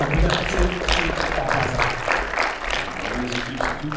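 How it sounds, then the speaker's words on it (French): Keynote audience applauds after an announcement, a dense, steady wash of many hands clapping at moderate loudness with a faint underlying murmur, holding evenly for a few seconds. "Donc je pense qu'on peut l'applaudir"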